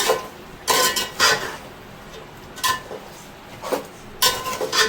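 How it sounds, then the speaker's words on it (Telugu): A spoon scraping and clanking against a pot while Nawabi basmati biryani is mixed up from the bottom, with several sharp metallic knocks spaced irregularly over a low background rustle. "ఒక్కసారి అడుగు నుండి బాగా కలిపేద్దాము"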